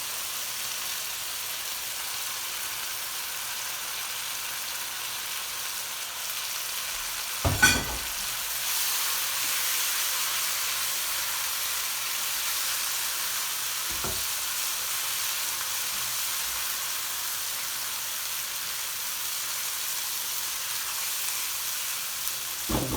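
Spices sizzle and fry in a pan for a tandoori chicken curry, a continuous hissing crackle that holds steady throughout. Two brief, sharp clatters break in, like a utensil knocking the pan.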